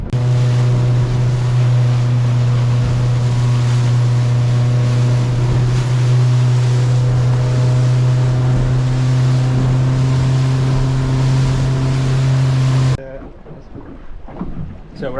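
Motorboat running out to sea on a fishing trip, a loud steady engine drone with water and wind rushing over it, cutting off abruptly near the end.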